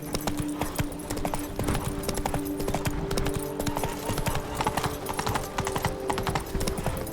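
Roach, a horse in the Witcher 3 video game, trots in a steady clip-clop of hooves that runs throughout, with a low hum of game ambience behind it.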